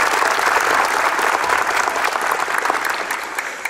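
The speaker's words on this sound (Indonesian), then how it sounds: "Ya, tepuk tangan." A crowd breaks into strong, dense applause at a military (TNI) selection ceremony, loud continuous clapping that eases slightly toward the end, with no voices over it.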